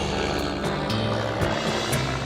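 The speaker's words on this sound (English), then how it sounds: "A crop duster is a special airplane that can fly really low to the ground to spray crops." A crop duster airplane flying low over an organic field, its propeller engine a loud, steady droning buzz that fills the short stretch, close and alone with no voices.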